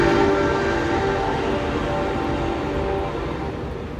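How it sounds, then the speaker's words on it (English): A train rumbles past on railroad tracks right next to an outdoor spot, a loud, steady roar with rail clatter and a horn-like tone that stays strong throughout, slowly easing slightly toward the end. "There's a fucking train coming."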